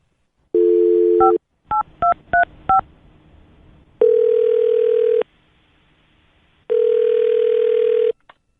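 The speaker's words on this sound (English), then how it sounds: "I'll dial his phone number right now and see if we can figure out why he just stopped talking to you" Touch-tone telephone number being dialed: a steady dial tone, then a quick series of short dual-tone beeps, followed by two longer repeating ringback tones, clear and close with no talking.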